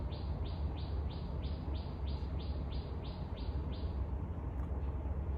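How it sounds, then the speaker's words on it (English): A small bird chirps in a quick run of repeated rising tweets, about a dozen evenly spaced calls close by over a steady low background rumble, then falls quiet near the end. "The bird just wants to be featured in my video."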